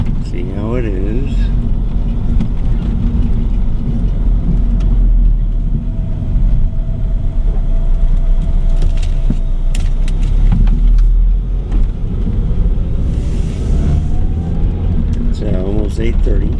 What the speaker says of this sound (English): just driving along a little bit, see how it is